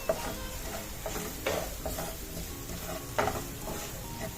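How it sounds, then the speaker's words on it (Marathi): Ground spice paste with turmeric fries in a pan, a soft continuous sizzle broken by periodic scraping stirs and light clinks of a spatula against metal, close and fairly quiet. "हळद घालून सुद्धा दोन मिनिट आपल्याला हे व्यवस्थित असं परतून घ्यायचं"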